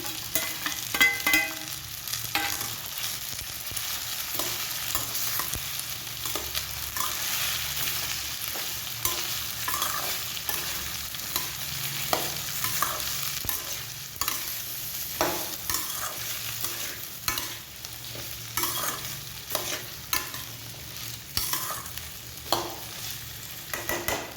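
Cut okra fries in a pan for an okra and potato sabji while a spoon stirs it. A continuous soft sizzle runs throughout, broken by frequent scraping stirs close to the pan, with no talk.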